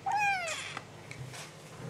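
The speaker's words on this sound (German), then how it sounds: "Das da ist meine neue Katze." A tiny new kitten gives one clear, close meow with a rising then falling pitch, followed by a quieter, shorter mew against a soft indoor background.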